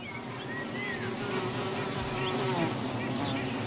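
Dense, steady buzzing of many bees swarming close by, a continuous hum with individual insects whining past.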